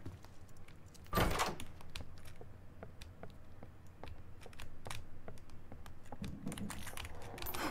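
A door swinging open in the Roblox horror game Doors: a sharp, loud creak and thump near the start, followed by a steady run of faint clicks and soft footstep-like taps over low room ambience.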